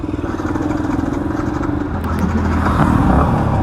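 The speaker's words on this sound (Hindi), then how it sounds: "स्टार्ट तो हो गया बट नहीं चल पाएगा, भदभदा रहा है।" A Yamaha MT-15 version 2.0 motorcycle that has run low on fuel starts and idles roughly, its engine sputtering and chugging close by in an uneven, pulsing rhythm.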